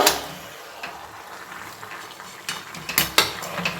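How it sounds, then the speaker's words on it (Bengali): Cabbage and a fish head stirred together in a pan, a spoon scraping and tapping against the metal with soft shuffling, growing into a few louder clinks toward the end. "এবার কিন্তু সবকিছু একসঙ্গে সুন্দর করে মিশিয়ে নেব।"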